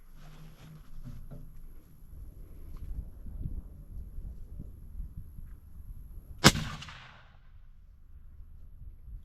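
A single sharp rifle shot rings out while sighting in a Vortex Crossfire scope, a loud crack with a short decaying echo outdoors, preceded by quiet wind and rustling.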